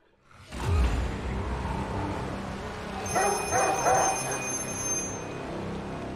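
An old black telephone rings in the horror film The Black Phone, a shrill electronic trill arriving midway through and repeating in short bursts over a murky, rumbling film soundtrack.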